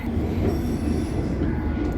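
A London Underground tube train runs through Northwick Park station with a continuous near rumble. High wheel squeal rides on top, and there is no talk.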